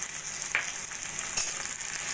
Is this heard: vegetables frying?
yes